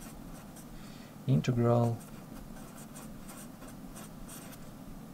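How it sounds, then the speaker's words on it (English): Pen scratching steadily on paper while handwriting notes during a maths lesson, faint and continuous, with a voice briefly speaking over it. "so I write this right here"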